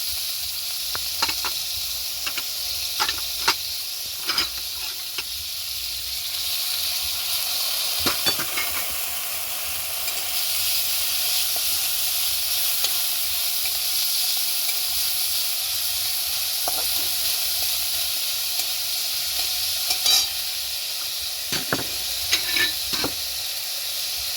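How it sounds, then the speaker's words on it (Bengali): Vegetables sizzling in a hot pan for chicken soup, giving a steady close frying hiss with scattered crackles and occasional stirring clicks throughout, with no talk. "এর একটু সবজিটা ভেজে নেব হালকা একটু ভেজে নেব"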